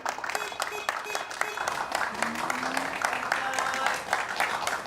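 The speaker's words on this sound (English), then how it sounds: "Government workers who supported this project applaud as Kohama meets his challenge" Government workers in Japan applaud as a magnesium and salt water powered car completes a 100-kilometre drive, a steady crowd of clapping hands with murmured voices underneath throughout.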